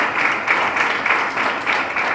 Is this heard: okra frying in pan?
no